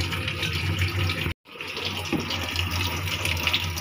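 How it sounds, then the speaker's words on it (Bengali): Water gushes and pours steadily as boiled chickpeas are strained, a close, continuous running flow broken by a split-second gap. "এখন বুটগুলা ছেঁকে নিবে।"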